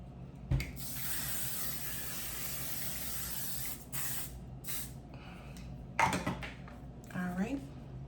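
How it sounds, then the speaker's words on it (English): Several bursts of a finishing setting spray misted onto a face, each a short loud hiss, with a pause between groups and a voice talking between sprays. "Then we're gonna go in with our finishing spray."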